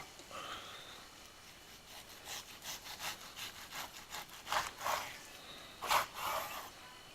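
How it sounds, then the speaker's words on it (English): A knife slices pork against the grain in a cooking class, giving a run of soft, rhythmic sawing strokes with a few sharper, louder cuts near the end, close by and without speech. "I'm going to try to cut this against the grain"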